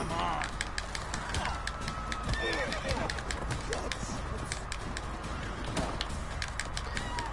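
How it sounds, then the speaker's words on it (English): Horse neighing in The Witcher III game, with whinnies and hoof clip-clop amid game ambience and bird cooing, heard under ongoing speech. "I think Vesemir's horse kicked that other guy, because I don't think I knocked him out."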